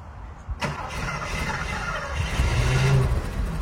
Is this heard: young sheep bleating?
no